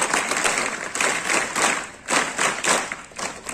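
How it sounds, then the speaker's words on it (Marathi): An audience claps for a woman at a gathering, a bright, dense burst of applause that swells and dips in uneven waves, close and fairly loud, with no talking over it. "या ताई टाळ्या वाजवा मॅडमसाठी"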